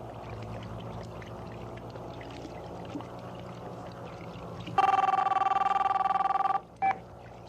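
A telephone rings indoors in a 1997 Filipino action film: one long, loud electronic ring, then a brief second burst, cutting through a low steady background hum.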